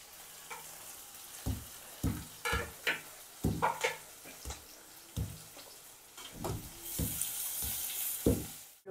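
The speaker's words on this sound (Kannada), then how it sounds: "ಇವಾಗ ಈರುಳ್ಳಿ ಹಾಕ್ತಾ ಇದ್ದೀನಿ" Onion dropped into hot oil with mustard seeds for a native-style sambar, crackling and sizzling in a pan with repeated sharp stirring clatters and bursts, rising to a brighter hiss near the end, no talking.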